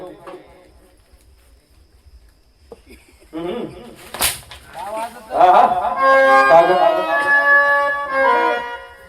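During a Marathi jagran gondhal comedy performance, a voice imitates a call used to shoo birds. It starts quietly, then rises into loud, warbling, drawn-out cries with other voices and stage noise around it.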